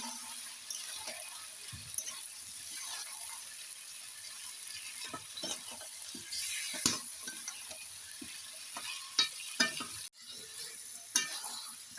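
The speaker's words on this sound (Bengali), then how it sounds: "এখন যে ভাজা মাংসটা রেখেছি সেটা আমি এখন দিয়ে দিচ্ছি।" Fried chicken pieces are stirred into a sizzling spice paste in a pan, with soft frying hiss under repeated scrapes and clacks of a spoon, all close by and without talk.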